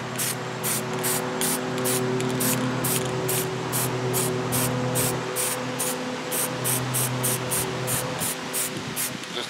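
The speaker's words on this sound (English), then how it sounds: "We're just going to spray paint it white with a base coat." Continuous hiss of a spray can or spray gun applying white base coat paint to a sanded fishing popper lure made from a candlestick, in steady repeated bursts with brief pulsing gaps, close and fairly loud.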